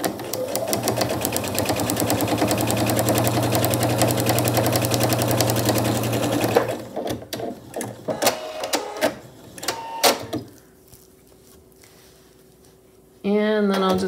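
A sewing machine runs rapidly stitching quilting lines on a skillet handle potholder, a steady mechanical rattle for several seconds, then stops amid clicks and handling before a brief restart; a voice talks over it.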